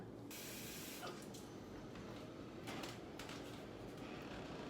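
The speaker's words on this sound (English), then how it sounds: "we're gonna take a pot, we're gonna put water in it so we can make our pasta" Tap water pours steadily into a cooking pot for boiling pasta, a continuous broadband hiss and splash that holds fairly even throughout, close by with no talking.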